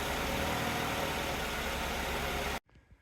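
A 2003 Mazda Protege5 engine runs after its starter is jumped directly, giving a loud, steady, close idle roar for about two and a half seconds before cutting off abruptly into near silence with faint knocks.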